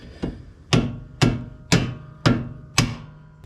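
A mallet taps a bolt out of a Chevrolet Equinox strut during a coilover install: six sharp metallic knocks, one light then five heavier, spaced at a steady half-second rhythm and ringing briefly, close and alone.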